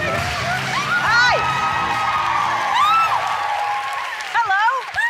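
A game-show contestant on Make It Rain screams in high, sweeping shrieks over a loud cheering, applauding studio crowd, with bursts recurring through the clip.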